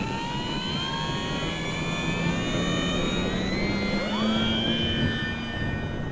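An Arrows RC Husky 1800mm 4s electric STOL model plane spools up for takeoff on a windy day, a steady high motor whine with rising tones over wind noise.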